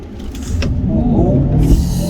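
A Mercedes C300e AMG Sport plug-in hybrid accelerates hard from a standstill toward 100, filling the cabin with a steady, loud roar of engine and road noise for a couple of seconds.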